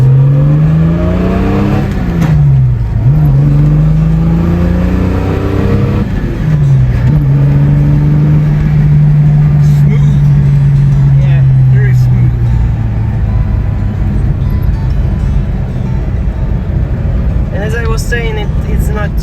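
A vintage manual car drives along in Slovakia, its engine droning loudly and steadily from inside the cabin, with pitch rising and dropping through gear changes and revs, and voices talking over it.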